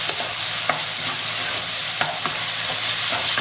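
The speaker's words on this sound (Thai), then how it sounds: "ผัดให้หอมให้เข้ากันนะ" Ingredients stir-fried in a pan for braised tofu, a continuous close sizzle punctuated by regular scraping and clinking strokes of a spatula, with no talking.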